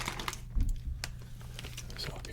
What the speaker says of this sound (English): Plastic bag, crinkle it.